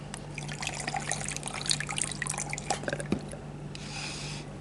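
Water drips and trickles close by in a continuous, irregular pattern as a pH meter probe is rinsed with distilled water, with a short splashing rinse near the end; no talking.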